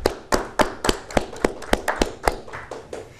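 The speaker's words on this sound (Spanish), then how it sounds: "vamos a brindarle un fuerte aplauso" A small group clapping in sharp, uneven bursts, the claps spaced apart rather than forming a dense roar, fairly close.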